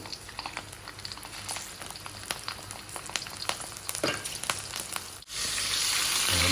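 Garlic and chili sizzling steadily in hot oil in a pan, with light stirring clatter, then a louder, brighter sizzle surge toward the end.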